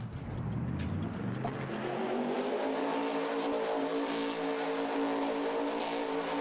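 A Farming Simulator 22 boat engine drones and rises steadily in pitch as the craft races toward a jump, loud and continuous with a faint whine above.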